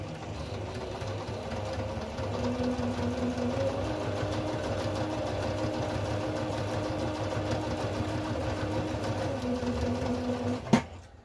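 A sewing machine stitches a tag onto a baby bunny tag blanket, running in a steady close mechanical whir with rapid rhythmic needle ticks, ending in a brief sharp clack as it stops.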